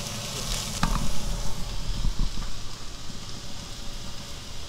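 Sliced onion goes into a pan of stir-fried potatoes, setting off a steady, close sizzle and crackle with a few stirring scrapes.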